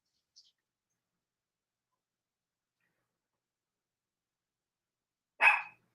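A dog gives a single short bark, close and fairly loud, after several seconds of near silence.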